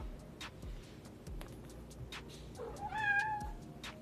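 A house cat meows once, a short, moderately faint call rising out of steady background noise with soft ticking and tapping sounds nearby.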